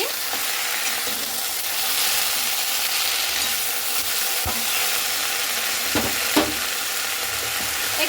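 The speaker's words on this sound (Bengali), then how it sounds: "পরে সেই পাতা কাটাগুলোকে দিয়ে দিচ্ছি। এরপরে খুব ভালো করে দেখুন এইভাবে আমি নাড়াচাড়া করে নিচ্ছি।" Chopped pumpkin leaves sizzle loudly in hot mustard oil with black cumin in a pan, a continuous close frying hiss broken by a few sharp scrapes and clacks of the stirring spoon.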